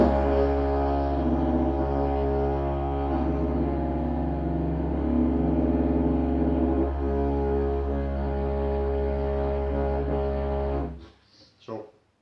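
Didgeridoo drone played while singing through it, a steady low buzzing tone with a sung overtone layer shifting in pitch on top, continuous and loud for about eleven seconds before breaking off.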